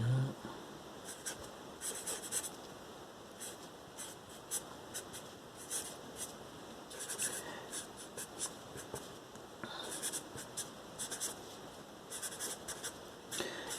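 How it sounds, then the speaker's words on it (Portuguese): Marker or chalk scratches and taps steadily across a board as trigonometric functions are written out during a math lesson. The strokes are soft, close and intermittent, with short pauses between bursts. "Deixa eu escrever um negócio aqui."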